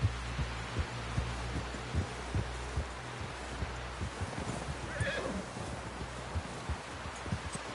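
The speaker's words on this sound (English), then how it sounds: "Someone help John down off this horse." A horse in the video game Red Dead Redemption 2 whinnies over steady clip-clop hoofbeats, the rhythmic thudding continuing throughout at close range.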